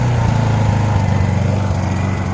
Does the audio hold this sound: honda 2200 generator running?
yes